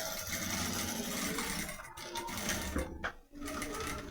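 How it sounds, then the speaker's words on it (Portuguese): A sewing machine runs a straight stitch on clear crystal plastic for a toothbrush case, a steady close whirring hum with brief dips and pauses near the end as the work is turned. "Vou virar, passo a costura reta aqui."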